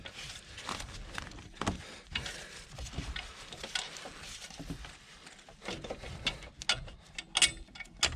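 A bolt on the alternator of a 2013-2018 Nissan Altima with the 2.5L QR25DE engine, slightly tight, being loosened and backed out, with soft ratcheting clicks and metallic tool taps, quiet and close, with no speech.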